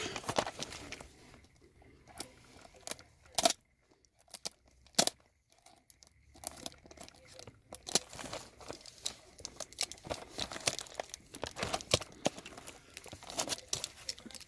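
Plastic shrink wrap is torn and crumpled off a Magic: The Gathering Kamigawa Neon Dynasty set booster box, with close, continuous crinkling broken by sharp crackles and tearing bursts.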